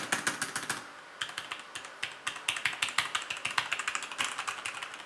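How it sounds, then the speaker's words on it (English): Brisk clacking keystrokes on an Alcatroz Trilium-BTR 1 mechanical keyboard, close and crisp, in quick bursts with a short pause near the start, no voices. "I just wanted to compare the sound between mechanical keyboard and the soft and silent keypads"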